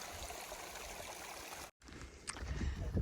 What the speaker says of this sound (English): All the streams have been running really well.